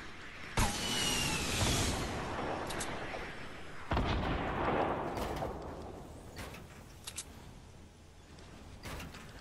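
Bursts of gunfire in the video game Fortnite, with several sharp shots and a heavy blast echoing through a busy battle mix, loud and close, followed by fainter scattered shots.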